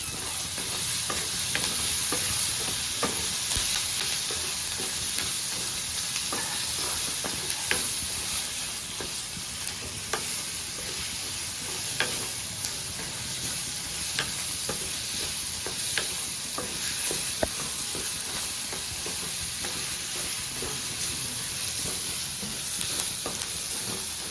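Curry leaves and chillies fry in hot oil, giving a steady, dense sizzle and crackle throughout with scattered sharp pops, close and continuous, no voices.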